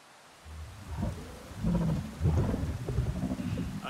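Thunderstorm in the video game Avatar Frontiers of Pandora: low rolling thunder swells and rumbles over steady rain, building after a quiet start and staying fairly close and full.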